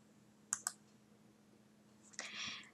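A computer mouse clicks twice in quick succession, close and crisp, then a short rustle of further clicks follows in a quiet room while setting up Visual Studio 2022.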